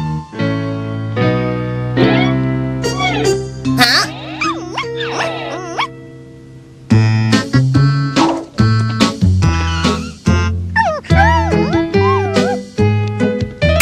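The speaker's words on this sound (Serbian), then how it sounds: "Kako slatko štene." Animated cartoon puppy yaps and barks in bright repeated bursts, loud and close, mixed with whimpering tones and music-like cartoon sound effects.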